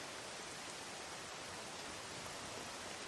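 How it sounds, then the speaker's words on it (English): Rain hisses as a faint, steady, even wash of noise with no distinct drops standing out and no one talking. "Oh, we got raining background noises."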